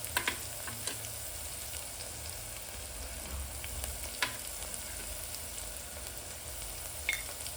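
Chili, red chili powder, turmeric and garam masala fry in a pan for veg dalcha, giving a steady soft sizzle with a few faint spoon clicks.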